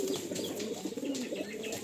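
Soft repeated cooing from Teddy Kasuri pigeons kept in a loft, close by and fairly quiet, with a faint chirp or wing rustle mixed in.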